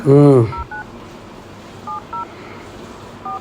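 Telephone keypad dialing tones as a number is entered for a prank call, several short, clear DTMF beeps in pairs with pauses between them, following a brief burst of voice at the start.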